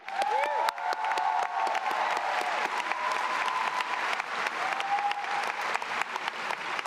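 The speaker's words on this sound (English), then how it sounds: "Let's give them one more round of applause." Another round of applause for the graduating class at a high school graduation ceremony, crowded clapping mixed with scattered cheers and whistles, sustained and fairly close.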